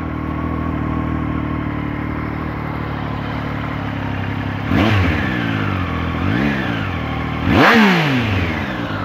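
A Triumph Daytona 765 Moto2 sport motorcycle idles steadily up close, then snaps through two sharp revs with a raspy exhaust bark, the second louder.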